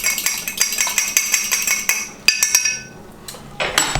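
Seasoning ingredients mixed in a small jar for a ribeye steak, a fast run of bright metallic clinks and taps from a utensil against the container, close and loud, easing off briefly before a final flurry.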